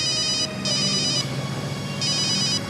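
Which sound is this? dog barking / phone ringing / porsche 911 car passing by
phone ringing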